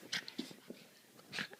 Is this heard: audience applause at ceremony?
no